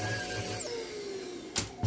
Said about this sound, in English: While we're here, might as well vacuum the bench.